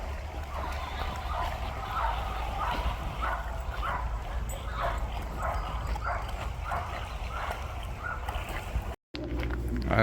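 Dogs at an off-leash dog park in Redmond, Washington bark repeatedly at a moderate distance, an irregular string of barks and yips over a low steady background rumble.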